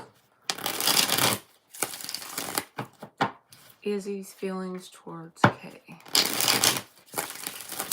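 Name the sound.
tarot cards being shuffled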